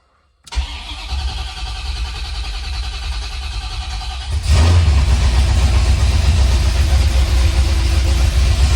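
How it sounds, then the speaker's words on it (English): A C4 Corvette, just swapped from automatic to a six-speed manual, cranks briefly after a moment of silence, then catches and settles into a loud, steady idle that carries on to the end. "Okay, car should crank."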